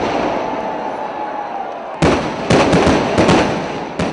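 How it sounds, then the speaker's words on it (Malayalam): Fireworks at a Kerala temple festival, Nenmara Vallangi Vela: a loud rumbling roar of bursting shells, then a rapid series of sharp booming cracks that follow one another closely. "കേരളത്തിലെ ക്ഷേത്രങ്ങളിൽ ഏറ്റവും ഗംഭീരമായ വെടിക്കെട്ട് നടക്കുന്നത് ഇവിടെയാണെന്ന് നാട്ടുകാർ പറയും."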